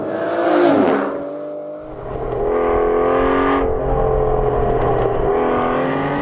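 A Lamborghini Aventador V12 engine revs hard nearby, rising and falling through several loud, rasping pulls with a brief dip between surges and no talk.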